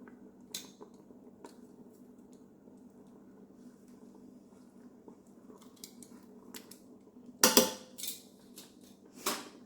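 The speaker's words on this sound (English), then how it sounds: "I'm just going to dump them right on top" Frozen vegetables from a 12-ounce bag tipped onto a thickening chicken pot pie soup in a Ninja Foodi slow cooker, with a low steady simmer underneath, soft clinks and then a sudden loud rattling tumble near the end.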